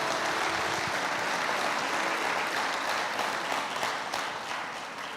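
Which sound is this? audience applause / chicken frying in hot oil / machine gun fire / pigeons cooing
audience applause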